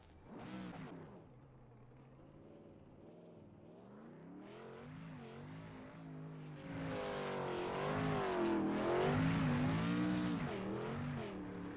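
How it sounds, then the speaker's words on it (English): A race truck does a tire-shredding burnout at New Hampshire, its engine revving hard and rising in pitch as the screech builds louder and fuller toward the end, with no talk. "And the burnout continues."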